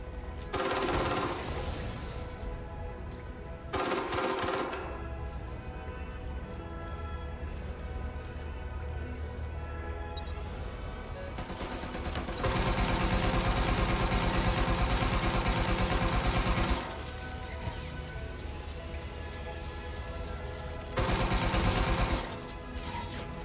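Gunfire in Watch Dogs Legion, set in a burning London: bursts of rapid automatic shots come and go in loud stretches over a steady mechanical hum, with gaps between volleys and no talk.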